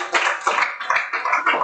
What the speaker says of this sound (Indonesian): Tepuk tangan buat Mbak Naveda dan Mas Gilang.